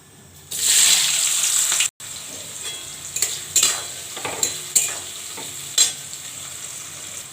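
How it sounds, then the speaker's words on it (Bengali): Potatoes frying in a pan, starting with a loud hissing sizzle as they hit the hot oil, then a gentler sizzle broken by intermittent spatula scrapes and stirring clatters, close by. "আলুটা ভেজে নিচ্ছি"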